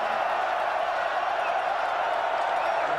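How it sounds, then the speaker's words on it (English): A football stadium crowd at the 2001 Rocky Mountain Showdown roars steadily as one loud, sustained wall of cheering, with scattered whoops and clapping and no pauses. "Listen to the crowd."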